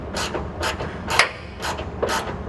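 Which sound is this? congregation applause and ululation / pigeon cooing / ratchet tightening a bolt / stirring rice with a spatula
ratchet tightening a bolt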